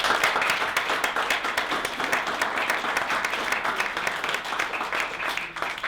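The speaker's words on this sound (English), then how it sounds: "So let's give them a round of applause." An audience at a merger event applauds with continuous, fairly loud, dense clapping from a crowd, steady for the whole stretch.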